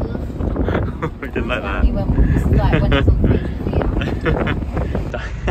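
Strong wind buffets the microphone on a steep cliff road in Malta, a steady roar running under the whole stretch while people talk over it.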